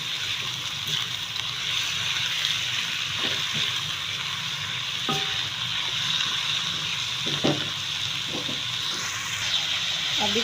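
Chicken keema frying in a pan, a steady close sizzle with scattered small pops and scraping stirs throughout, with no talking.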